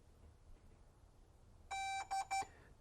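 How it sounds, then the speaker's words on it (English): A DJI Air 3 drone powering on gives three electronic beeps, one longer followed by two short ones in quick succession, clear and close over a quiet background hiss. "press and hold the power button for 4 seconds until aircraft beeps."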